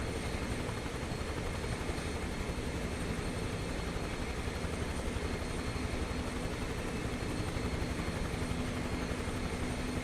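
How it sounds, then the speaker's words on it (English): A Huey helicopter's engine spools up in the MSFS 2024 flight simulator, producing a continuous dense turbine whine and rotor roar at a steady level, with no speech. "Why are my engine sounds so quiet compared to the exterior?"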